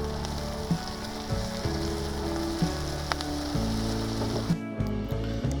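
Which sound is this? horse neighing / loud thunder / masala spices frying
masala spices frying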